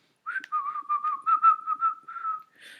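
Someone whistles a short, wavering tune close by: a string of quick pulsed notes over a sustained pitch, then a brief breathy tail, with no talk.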